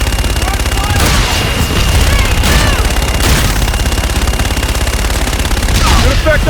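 Heavy automatic gunfire roars almost without pause during a Call of Duty Infinite Warfare mission, loud and dense with booming impacts, while radio chatter and voices run underneath.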